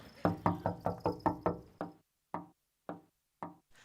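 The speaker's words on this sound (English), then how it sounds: "How long have they been knocking?" Knocking on a door: a rapid run of eight firm raps, then four slower, evenly spaced single knocks with silence between them. The knocks are close and loud.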